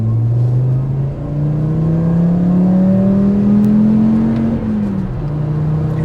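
A 5-cylinder Volkswagen engine revs loud and close, its pitch climbing steadily over several seconds before dropping back, with a smooth, throaty drone held throughout.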